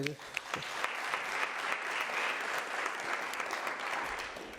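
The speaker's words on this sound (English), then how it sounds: "So I think you really deserve a round of applause." Applause from an audience at a television series launch event, steady clapping from a room full of people, moderately loud and sustained for several seconds.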